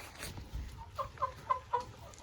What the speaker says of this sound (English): I hope you guys are as excited as I am to see the new chickens.